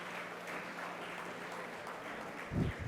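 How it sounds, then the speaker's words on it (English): An audience at a health care conclave claps for the teachers, a moderate continuous patter of applause at a distance, swelling slightly near the end. "So give them a big round of applause."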